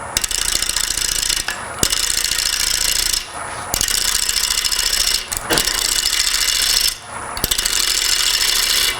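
A gouge taking light cuts on a lathe while a log is turned into a bowl, giving a close, steady hissing scrape under the motor hum, broken by brief pauses and intermittent knocks as the tool hits and misses.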